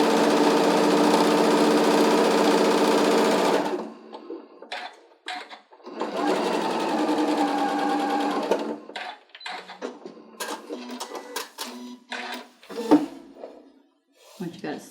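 Sewing machine stitching a quilt block, two loud close bursts of rapid whirring separated by a brief pause, followed by scattered clicks and handling noises while a person talks.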